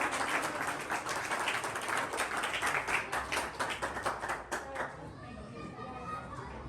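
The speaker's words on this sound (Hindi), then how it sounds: "आप सबकी भरपूर तालियों में, भरपूर एप्रिसिएशन के साथ" An audience at a school prize distribution ceremony claps loudly and densely for several seconds, then the applause thins out and fades while chatter and children's voices continue underneath.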